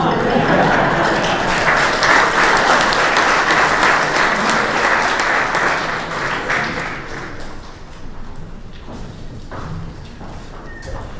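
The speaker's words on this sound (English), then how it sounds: "They're clapping before you finish the sentence" Audience at an evening induction celebration breaking into loud, sustained clapping that fills the room, then gradually thins out to scattered claps toward the end.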